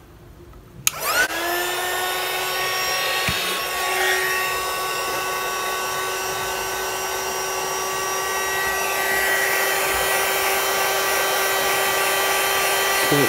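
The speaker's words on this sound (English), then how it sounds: "A heat tool." A handheld heat tool for embossing switches on and runs with a steady, high-pitched whirring blow of air. The loud, even drone holds for over ten seconds with a slight shift in pitch partway through.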